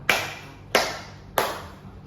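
Three sharp, evenly spaced hand claps from a group in a classroom clapping game, each a crisp burst with a short ringing tail in a reverberant room.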